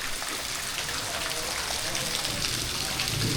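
Rain falls steadily over the old ruined buildings of Panam Nagar, a continuous even hiss of drops and running water at a moderate, quiet level.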